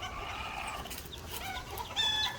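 A farmyard hen clucking in short, close calls over steady outdoor background noise, with a louder burst of clucks near the end.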